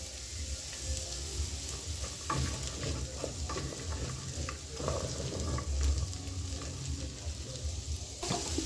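Carrots and hohos cooking in a pan, a steady sizzle and fry with occasional stirring scrapes and clinks running through the whole stretch at moderate level, no voices.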